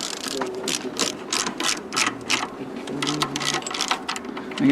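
A hand ratchet tightens gearbox PTO cover bolts in a workshop, giving quick bursts of crisp, rapid clicking, fairly close and loud, with brief pauses between strokes and a little background voice.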